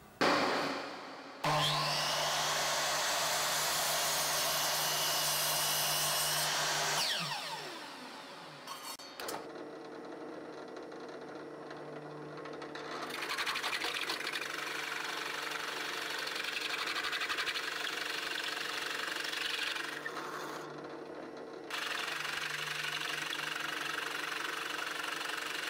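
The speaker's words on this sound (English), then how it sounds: "So after I cut this out on my miter saw, I'll head over to my drill press." Power tools in a woodshop cut and drill a wooden cube with a miter saw and a drill press, producing long loud whirring runs with brief pauses and spin-downs between them.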